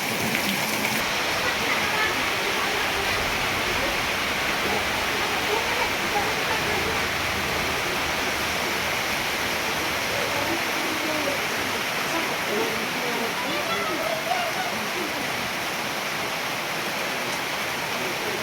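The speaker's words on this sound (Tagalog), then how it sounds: "pero nagaulan namang gyud" Heavy rain pours steadily in a dense, hissing wash that stays loud and unbroken throughout, with faint voices mixed underneath.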